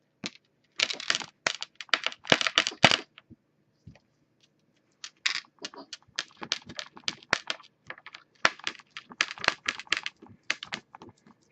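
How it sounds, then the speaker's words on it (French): Dense, rapid clicking and light metallic tapping of a bracelet jostling as hands roll Fimo polymer clay, close and crisp in irregular bursts with a short pause midway. "Désolée pour les bruits de mon bracelet, hein."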